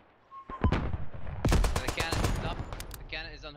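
Heavy machine gun fire in the WWI shooter Beyond the Wire, played on the German Empire side, rattles in loud, close, rapid bursts mixed with other gunshots on the battlefield.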